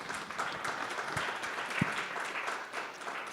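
Audience applause at a panel discussion during a summit, a steady, dense wash of clapping that holds for the whole stretch at a moderate, even level with no voices above it.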